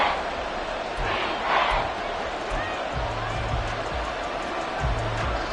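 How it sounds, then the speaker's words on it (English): A stadium crowd in Madden NFL 24 roars steadily during a Chiefs goal-line drive, a dense wash of cheering with thumping noises and commentary voices over it. "This crowd doing all they can"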